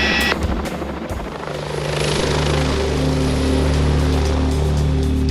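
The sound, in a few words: London police helicopter flying in to land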